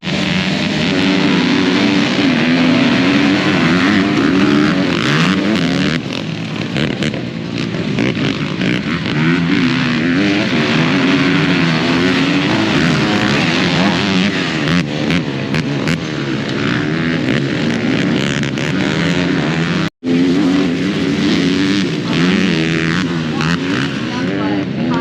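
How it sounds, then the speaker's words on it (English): Dirt bikes race in an adult class at an ATV park event, engines droning loud and continuous with harmonic whine throughout, under steady crowd and announcer-style voices. "this is the adult dirt bike class."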